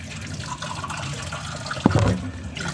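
Water pours and splashes into a basin of vegetable leaves being washed, a brief burst of sloshing and trickling near the close against a steady background hiss.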